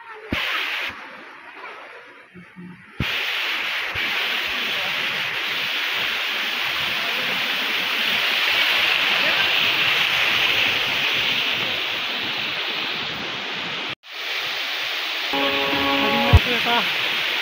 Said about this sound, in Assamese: এই দেখা পাইছে এইটো ৱাটাৰফল আপোনালোকে চাব পাৰে